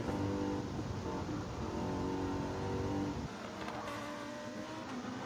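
A Mercedes race car in Gran Turismo 7 or Forza Motorsport drones at high revs, its engine tone shifting upward as it accelerates, then drops after a gear change. The sound is continuous and close, with no talking.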